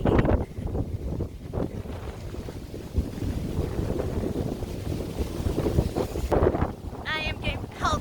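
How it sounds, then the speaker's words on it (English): Strong gusty wind buffets the microphone outdoors along the rocky Cabot Trail coast in Cape Breton, a loud, fluctuating roar that never lets up, with a brief pause in the gusts near the end. "It is so windy now."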